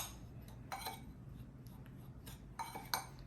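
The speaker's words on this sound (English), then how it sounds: "I went ahead and add my cinnamon to my brown sugar, and I'm going to give this a nice mix" A utensil scrapes and clinks against a bowl as cinnamon is stirred into brown sugar for a cinnamon roll filling. The taps come faint and scattered in small clusters over a low background hum.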